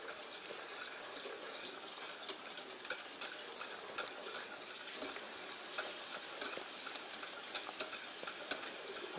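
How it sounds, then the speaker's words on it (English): Foaming hot process soap is stirred in a pot, making a faint, steady bubbling fizz scattered with small ticking pops throughout, with no voices. "As it does that, you'll want to break it down by stirring it."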